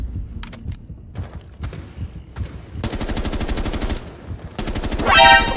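Gunfire in Rainbow Six Siege: a few scattered single shots, then sustained rapid automatic bursts that grow louder, ending in a loud close burst with ringing debris.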